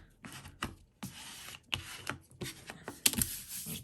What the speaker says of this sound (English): I'm just going to get my little scraper tool and scrape it all in again